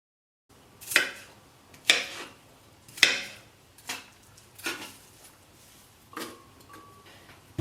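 An onion is cut into big pieces on a board, with about eight separate sharp knife strikes at a loose, uneven pace, close and clear, each fading quickly.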